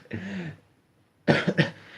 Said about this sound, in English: I choked on the medicine and I've been coughing nonstop.